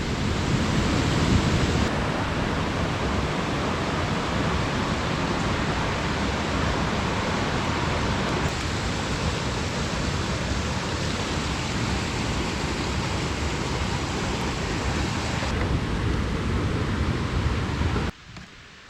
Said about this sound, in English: The creek kind of divides as it goes down the waterfalls there